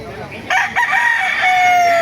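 A rooster crows loudly and close by at a chicken market in Baliuag, Bulacan, one drawn-out call rising over a busy background of other fowl and market noise.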